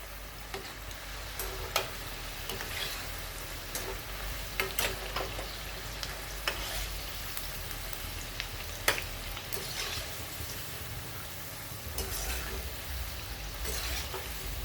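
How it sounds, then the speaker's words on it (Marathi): Cabbage pakoras deep-frying in hot oil on a low flame: a continuous, close bubbling sizzle with occasional sharper pops and crackles, moderately quiet, no talking. "अगदी कमी गॅसवर आपण तळले पण आधी तेल चांगलं गरम होऊ द्या"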